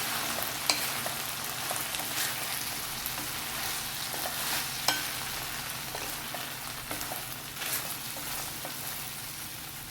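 Dragon chicken sizzles steadily in a pan as it is stirred with cornflour-thickened gravy, with a constant frying hiss and occasional soft clicks of the utensil.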